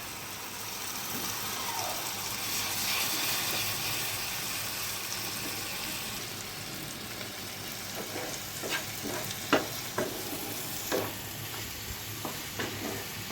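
Spice paste for egg curry frying and being stirred in oil in a pan, a steady sizzle with scraping spoon strokes growing sharper and more frequent toward the end, close and fairly quiet.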